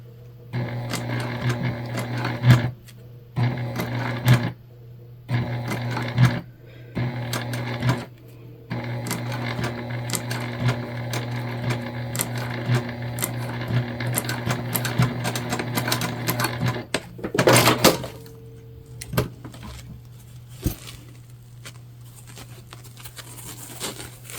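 A sewing machine stitches a pouch made from a dish drying mat, running in quick rattling bursts separated by short pauses, then one longer run before falling quiet.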